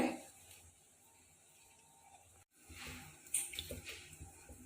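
Water pours and splashes into a pot of toor dal, quiet and close, with a short gap before a brief louder splashing stretch.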